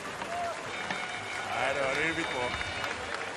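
Appreciative crowd in Germany applauding at the 2023 ICF Canoe Sprint World Championships finals as a K1 1000 racer finishes, a dense, continuous wash of clapping and cheering under a speaking voice.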